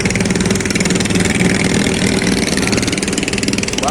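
Tourist boat engine idling and chugging steadily nearby in a harbour at Bajo, a continuous mid-pitched drone with a dense rhythmic throb and no voices.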